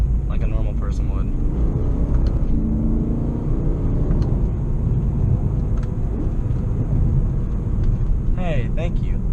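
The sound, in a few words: BMW E90 M3 driving through a corner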